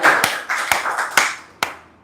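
Sparse clapping from a small audience at a club meeting, a handful of distinct hand claps spaced about half a second apart over a soft, fading applause wash, fairly close, with no talking.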